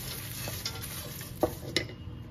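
Chivda of flattened rice being stirred with hot tempering poured over it, a steady soft rustling sizzle with a few sharper scraping clicks, close and alone.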